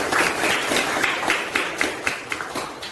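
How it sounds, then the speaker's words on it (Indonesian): A classroom of students claps together for a classmate's answer during an Indonesian school lesson, a steady run of moderate applause with repeated beats lasting the whole moment. "Tepuk tangan"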